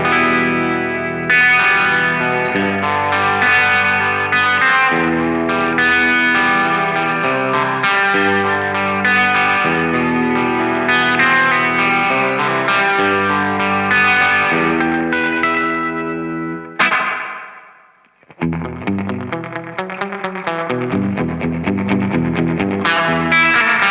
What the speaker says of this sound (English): Dusty Spring, which is their reverb.